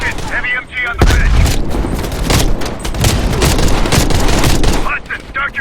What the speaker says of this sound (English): Heavy MG on the bridge.